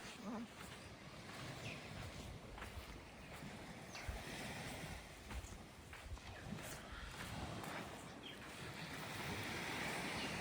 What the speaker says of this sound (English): Very pretty beach.